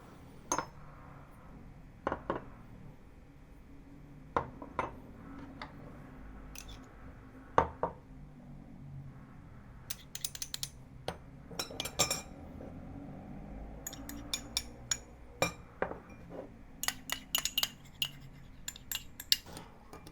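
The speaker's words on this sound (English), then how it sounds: "Now let's mix all these ingredients to make the stir-fry sauce." Spoon or whisk clinking against a bowl while stir-fry sauce ingredients (soy sauce, vegetarian oyster sauce, sesame oil, miso, salt, pepper) are stirred, with sharp intermittent taps and scraping, close and fairly quiet, no talking.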